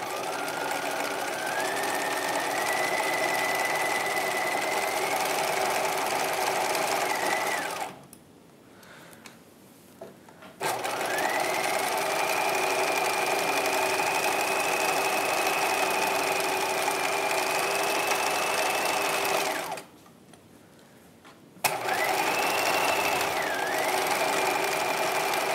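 A sewing machine stitching the bodice of a 1950s Lamour halter dress runs in a steady whirring hum, stopping twice briefly for pivots at the needle before resuming.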